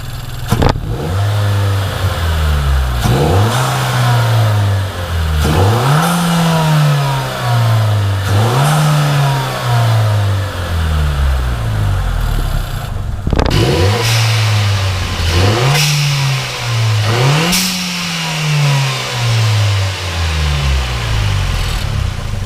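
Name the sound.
Nissan Juke Nismo RS engine revving with blow off valve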